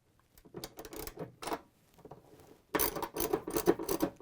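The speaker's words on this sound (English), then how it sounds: "I'm gonna tighten it with a socket wrench with a 10mm head" A socket wrench drives a 10mm bolt into a washer gearcase in close, quick bursts of ratcheting clicks. The clicks come in short runs with brief pauses between them and get louder toward the end.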